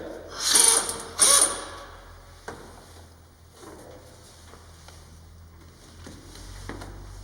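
A ratchet tightens a bolt on a Toyota Sienna steering assembly, giving two quick loud clicking bursts near the start, followed by quieter mechanical knocks and handling sounds.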